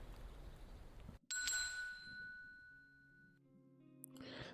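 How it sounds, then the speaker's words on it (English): Soft door chime of an old record store in a video game, a gentle ringing ding with a long, decaying shimmer after a brief knock, fairly quiet and alone, followed by faint movement. "I push the door open. A soft chime echoes from inside"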